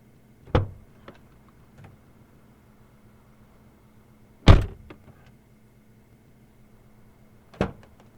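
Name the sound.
car door being opened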